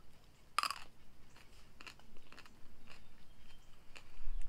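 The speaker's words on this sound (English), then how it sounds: "also these kind of crunch in your mouth" Someone bites into fresh crunchy cucamelons, tiny mouse melons just harvested in a greenhouse: one sharp crunch followed by softer close chewing crunches, quiet and up close, with no talking.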